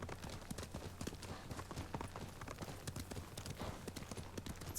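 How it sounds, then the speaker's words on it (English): Rapid, even clip-clopping of a galloping horse's hooves in the video game Ghost of Tsushima, continuous and moderately close, with faint game ambience underneath. "Come on, horsey."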